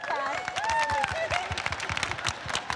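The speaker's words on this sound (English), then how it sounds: "A big round of applause" Audience applause breaks out at the Suncorp Off-Court All Stars event, a ragged patter of clapping with cheering voices and a whistle rising over it.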